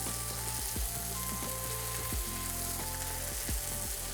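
Papaya-marinated beef chuck steak fries at medium heat, giving a continuous sizzle over a low steady hum with scattered soft pops and crackles.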